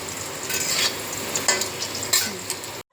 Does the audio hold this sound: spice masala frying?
yes